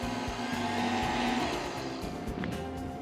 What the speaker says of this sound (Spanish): Y entonces pongo otra vez a batir.